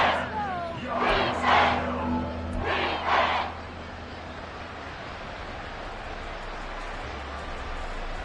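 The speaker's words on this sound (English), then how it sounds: "this crowd is making an impact right now" A football stadium crowd roars in two loud swelling waves during an NFL game against the Titans, then settles into a steady distant rumble of crowd noise.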